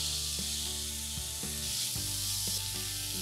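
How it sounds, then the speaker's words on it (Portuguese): Chopped onion and crushed garlic sizzle in a pan with a steady, bright frying hiss, broken by occasional soft scrapes and stirs. "E vamos esperar ela fritar um pouco"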